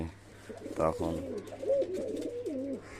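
Young, not yet adult pigeons in a loft give soft, close cooing calls, several rolling warbled coos in a row over a low background hum.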